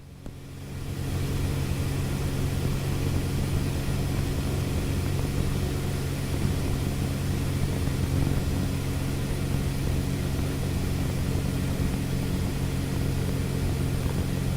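A small airplane's piston engine drones steadily in flight, loud and close inside the cabin, with a constant hum that holds unchanged throughout and no voices.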